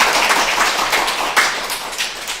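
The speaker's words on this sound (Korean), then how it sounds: "정말 좋은 강연 해주신 우리 두 선생님께 다시 한번 박수 좀 부탁드릴게요." An audience at a parenting lecture on children's sexual development gives the two lecturers a round of applause, a loud, dense wash of clapping that holds steady with slight swells.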